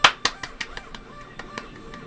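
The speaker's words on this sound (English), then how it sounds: "Golf clap." Slow, sparse golf-clap hand claps, about a dozen light, evenly spaced pats ringing out close and alone, sarcastic in pace.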